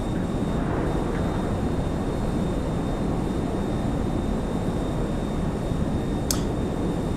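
Airplane engine in flight in GTA Online, a dense, loud, unbroken roar of steady droning noise with no talk over it.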